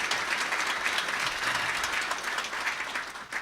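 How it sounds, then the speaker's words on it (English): A banquet audience applauds whoever made the food, a steady, fairly loud burst of many hands clapping that continues throughout and eases slightly at the close. "We got to have a round of applause for whoever made this food"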